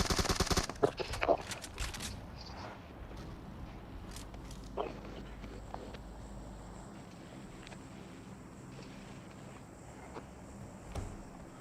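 Bursts of gunfire from a PUBG Mobile match, with sharp shots clustered early and scattered cracks after, set over a steady low rumble.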